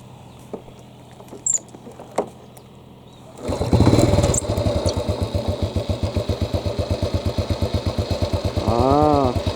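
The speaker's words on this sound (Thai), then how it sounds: "เดี๋ยวขออนุญาตขี่มอเตอร์ไซค์ไปนะครับ" A motorcycle ridden one-handed around a dried-out pond starts up and runs with a loud, steady, pulsing engine patter close by, holding throughout after a few quiet knocks at the start.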